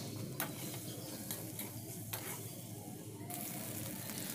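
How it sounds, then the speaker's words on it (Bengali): Egg bhurji with capsicum fries in a pan, a soft, steady sizzle heard close but quietly throughout, broken by a few light stirring clicks. "একটু ভাজা হয়ে গেলে ডিমটাকে মাঝখানে একটু ফাটিয়ে নিয়ে দিয়ে দিয়েছি"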